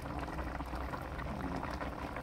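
Steady, dense crackling and bubbling of hot oil frying fish, continuous and close, with no voices over it.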